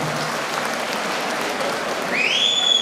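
Audience applause greets a guest at the A.P.P.T.D. Employees Union state conference, a steady, dense clapping that swells louder toward the end, where a sharp whistle cuts through.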